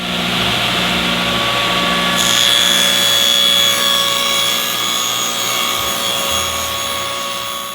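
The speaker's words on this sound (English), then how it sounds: "So all to do now is cut out a bunch of those blocks." Wood blocks being cut with a powered saw, a loud continuous whining buzz with a steady hum beneath, the pitch shifting as the blade bites into the wood partway through.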